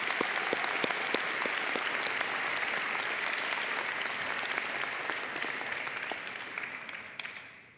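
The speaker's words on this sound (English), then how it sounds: "Let's give them a good hand of applause." Sustained audience applause for medical school graduates at a Stanford commencement ceremony, a dense, steady wash of many hands clapping that carries on throughout and tapers slightly toward the end.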